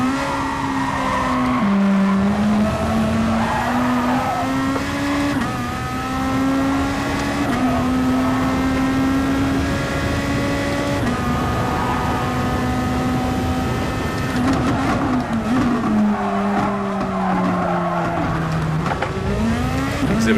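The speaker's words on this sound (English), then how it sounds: "Shit tons of understeer." A race car in a racing game pushes through corners with heavy understeer, its engine droning steadily while tires scrub and squeal continuously at close range, loud and unbroken throughout.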